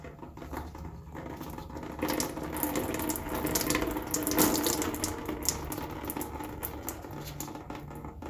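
Heating oil from a home heating oil filter housing splashing and trickling into a bucket, a soft steady patter of liquid with no talk over it.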